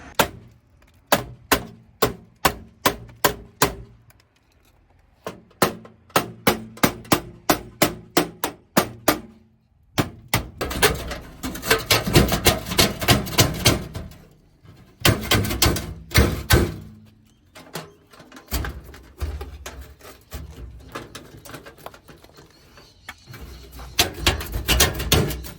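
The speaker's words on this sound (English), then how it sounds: "Now we're gonna go cut this whole thing out, put a new switchboard in." An old asbestos switchboard being cut out and removed during a Queensland switchboard upgrade: close, repeated sharp knocks and hammering in bursts, then harsher, denser cutting and prying noise with scattered loud impacts, no talking.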